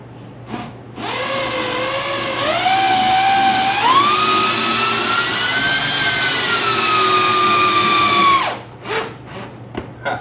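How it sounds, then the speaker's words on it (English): A power drill whines alone for several seconds, its motor pitch climbing in steps as it bites into the wall, then cutting off abruptly. "And we'll drill it in."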